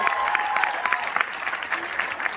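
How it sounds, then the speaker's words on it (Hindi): Steady applause from a crowd at a business meeting in Bilaspur, many hands clapping continuously throughout, fairly loud and close, with no pauses. "और प्रकाश वर्मा सर के लिए एक बार पहले दिन वाला ताली चाहूंगा दोस्तों।"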